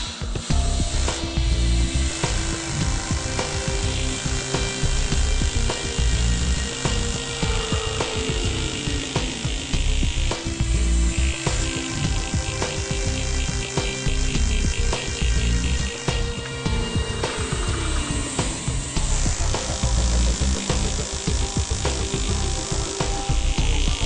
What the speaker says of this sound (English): put a frosted finish on one half of the wedding band, which is used with a pneumatic drill